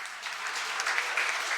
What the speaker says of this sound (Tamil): சத்தியமூர்த்திக்கு பிறகு பெரிய கரகோஷம் கொடு